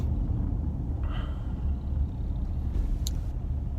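Car cabin on a morning drive to work, with a steady low engine and road rumble that stays constant and fairly loud throughout.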